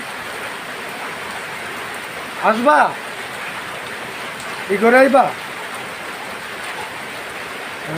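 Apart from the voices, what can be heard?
heavy rain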